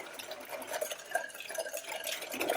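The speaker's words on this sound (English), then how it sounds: "So I'm going to go ahead and stir that up with the whisk." A whisk stirring pudding mix into cold milk in a bowl, making a soft, continuous liquid swishing and light tapping at close range, with no voices.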